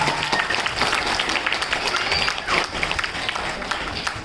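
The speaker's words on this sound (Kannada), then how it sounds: "ಇವ್ರಿಗೆ ಜೋರಾಗಿ ಚಪ್ಪಾಳೆ ಬರ" Audience applause at a dance and fitness school's fourth anniversary event, a sustained patter of many hands clapping in a crowd, moderately loud and steady with occasional louder bursts.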